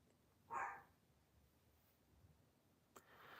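A single short dog bark sounds once, faint and somewhat distant in a quiet room, followed by a soft click and low background hiss.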